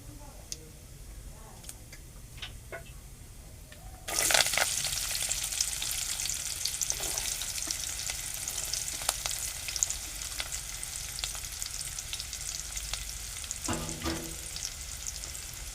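Finely chopped onion and curry leaves hit a hot pan for soybean sabji, bursting into a loud, close sizzle after a quieter start with light ticking; the frying then settles into a steady hiss with occasional stirring.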